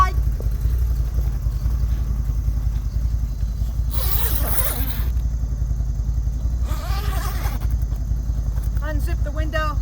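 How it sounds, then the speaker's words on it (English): Two quick zipper pulls open the window of a CFMoto UForce 1000 XL side-by-side's soft enclosure, each a short raspy burst, over a constant low engine idle. "unzip the window to get some air"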